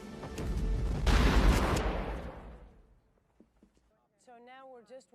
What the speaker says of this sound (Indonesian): Tahapan berikutnya adalah persiapan detonator nuklir yang sudah ditanam. Dan peledakan pun dilakukan.